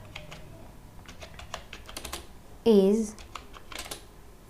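Computer keyboard typing while building a site in Google's website builder, soft, close and intermittent keystrokes running through the clip under faint background, with a brief spoken word near the middle.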